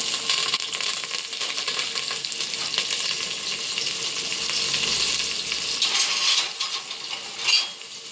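Onions and curry leaves sizzle and crackle steadily in hot oil, with a few stirring clinks and scrapes of a utensil against the pan near the end.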